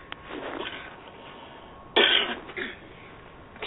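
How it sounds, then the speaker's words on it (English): Two short, dry coughs a couple of seconds apart, close to the microphone, against a quiet background with no speech. "I have a bit of a cough here."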